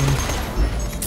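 Gunfire in the Borderlands video game, a dense, loud burst of shots with low booms, heard up close over a noisy game backdrop.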